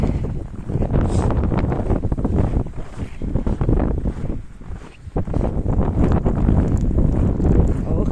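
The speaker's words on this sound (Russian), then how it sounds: "Дует так немножко. Совсем немножко." Blizzard wind in the Arctic town of Labytnangi roars and buffets the microphone in a steady, loud rush with gusting swells and a brief lull near the middle.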